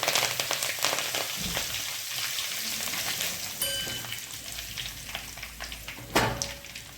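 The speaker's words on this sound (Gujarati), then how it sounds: "અને મીઠા લીમડાના પાન ઉમેરી દઈશું." Curry leaves and sesame seeds sizzle in about three spoons of hot oil for a Gujarati tempering for avali leaf patra, giving a steady, close crackling hiss with a sharper burst of spitting near the end.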